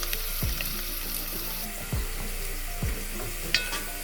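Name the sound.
garlic sizzling while cooking for beef stew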